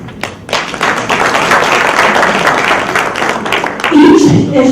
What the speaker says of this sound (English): So I want to give you guys an applause